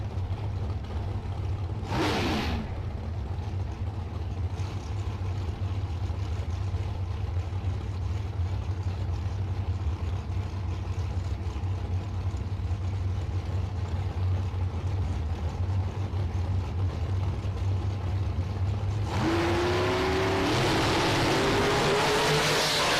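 A 2009 A&E dragster at a drag strip bracket race sits as a steady engine drone for most of the stretch, then roars louder near the end as it launches and accelerates, with a brief sharp burst early on.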